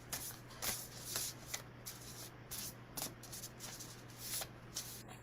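Oracle cards are shuffled by hand in quiet, repeated riffling bursts, soft papery flutters that come and go over a low steady hum.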